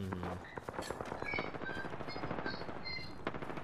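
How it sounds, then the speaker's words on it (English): Rapid bursts of automatic gunfire in the Apex Legends video game, dense and fairly distant-sounding, crackling steadily for several seconds with scattered interface tones. "there were shots coming off that way"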